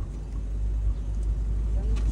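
A steady low rumble of car traffic rolls past, continuous and fairly loud, with people talking over it.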